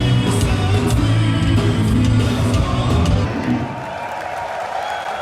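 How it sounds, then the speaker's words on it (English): A group of people applauding and cheering indoors while on tour with a metal band: a loud, continuous mix of clapping and crowd noise with low voices underneath, fading somewhat toward the end. "so everybody's applauding."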